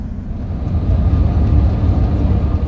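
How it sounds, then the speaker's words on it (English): A small tour bus driving on Madeira gives a steady, close, low engine and road rumble that holds at an even loudness throughout, with no voices. "Looks like we've got a little van. That's good. I love a small tour. Fabulous size bus."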